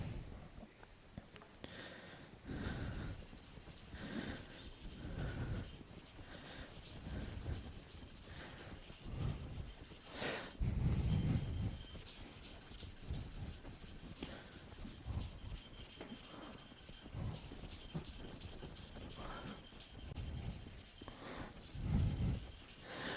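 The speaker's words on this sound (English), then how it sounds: "You'll notice when you're sanding this that a lot of times you'll get more CA vapors off of it as you sand it." Sandpaper rubs against a CA (cyanoacrylate) finish on a turned wood bowl, giving steady scratchy friction in repeated strokes with periodic louder passes, close and alone without talk.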